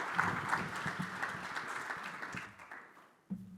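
Audience applause breaks out to welcome a keynote speaker at an artificial intelligence conference, a steady patter of many hands that thins and fades toward the end before a brief bump of handling noise.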